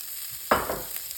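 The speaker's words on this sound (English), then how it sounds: "Start with some onions. We're gonna put them in our oiled frying pan." Chopped yellow onion hits an oiled frying pan with a sudden sizzle that rises sharply, then settles into a faint, steady frying hiss.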